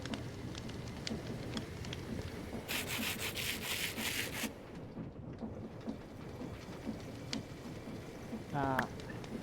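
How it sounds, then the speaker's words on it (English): Sandpaper is crafted in the modded Minecraft world, with a short, dry rubbing scrape over quiet game ambience and a few soft clicks. "Sandpaper."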